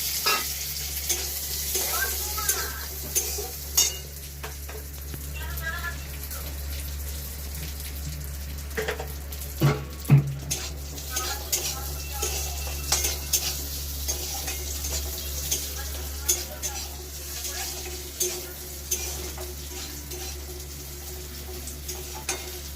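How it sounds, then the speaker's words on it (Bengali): Cashews and raisins sizzle in hot oil in a home kitchen pan, a steady frying hiss broken by frequent stirring scrapes and clinks, with one louder clatter partway through. "কাজু কিশমিশটা ভেজে নিয়ে"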